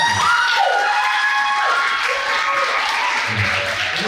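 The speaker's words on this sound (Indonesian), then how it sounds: "tepuk tangan buat kalian semua" An audience applauds a children's choir at an awards and closing ceremony, steady clapping filling the hall at moderate loudness, with a few shouts and a voice rising briefly over it.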